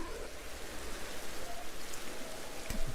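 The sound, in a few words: rain in video game Pokémon Legends: Arceus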